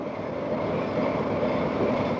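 A Lehigh Valley freight train on the Buffalo Division in winter gives off a steady, loud rolling rumble that fills the whole stretch without a break, with no voices over it.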